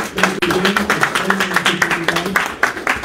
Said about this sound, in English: And one round of applause again to all of them.